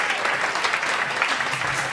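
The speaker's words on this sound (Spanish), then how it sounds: "Un fuerte aplauso." Crowd at the San Fermín festival applauds a band, with steady, fairly dense clapping filling a short burst at moderate loudness.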